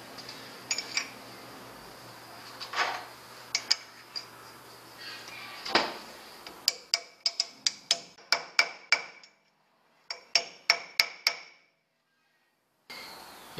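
Bright, piercing metal clangs ring out as a hammer beats a bearing race home in a Toyota HJ61, using the old race as a driver. Softer, duller knocks come first, then rapid runs of sharp strikes with brief gaps.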